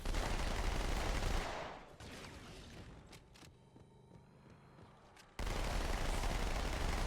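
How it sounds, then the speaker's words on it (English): Rapid submachine gunfire from the Flood in Halo 2, dense bursts of automatic fire that open loud, thin to scattered shots midway, then return as a heavy sustained barrage. "how do they have like submachine guns?"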